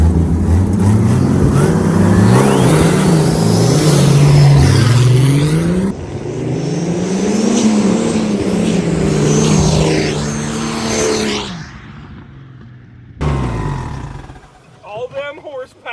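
Old Chevrolet 230 six-cylinder with a cheap turbo setup, wheelie bars set about 1.5 feet behind the rear axle, roars loudly through hard acceleration, the engine note rising and falling in surges before cutting off, with voices and crowd noise near the end.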